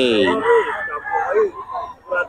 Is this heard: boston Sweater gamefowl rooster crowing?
yes